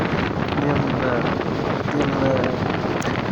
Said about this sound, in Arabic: يعني مجهد الصوت ديال الريح، مجهد بزاف